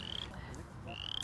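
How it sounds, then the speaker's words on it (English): Chorus frogs calling in a grassland: a faint, continuous chorus of rapid pulsing croaks with a few higher trilling calls over it, heard at a distance. "If you can hear past the chorus frogs"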